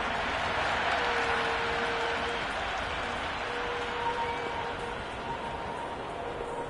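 A cricket crowd in the Cricket 26 video game cheers and applauds after a boundary. The roar stays steady and fairly distant, a continuous wash of crowd noise with no talk over it.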